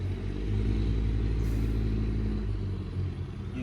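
A truck engine rumbles nearby in a steady, loud low idle with a slight rise in revs, continuing without talk for a few seconds.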